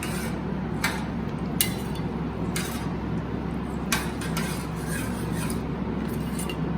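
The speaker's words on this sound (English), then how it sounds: "Now stir it." A spoon or ladle scrapes and rubs steadily around a pot of simple khichdi, with a rough continuous grinding texture and a few sharper clinks against the metal rim.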